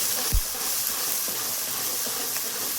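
Spices crackling in hot oil for a tadka as potato curry is tempered, a steady hissy sizzle with a brief low thump near the start, no talking.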